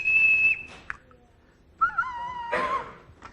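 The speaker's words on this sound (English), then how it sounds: "there is a sound wave being generated because the column of air is vibrating inside the length of this whistle" A whistle is blown in a long steady tone, then after its tube is lengthened blown again at a lower pitch, close and clear, with brief breaths between.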